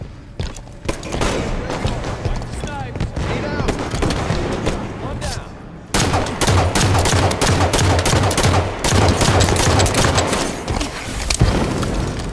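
Sniper rifle fire during a Halo 5 ranked Slayer multiplayer match, with loud sharp shots and booms dense throughout, layered over continuous game effects and talk.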